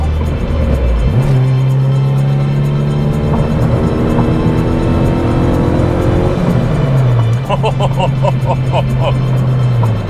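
A supercharged R18 Honda Civic, a Kraftwerks build of about 220 wheel horsepower, accelerates hard from inside the car, its engine note climbing steadily through the gears, dropping at a shift, then rising again, loud and continuous.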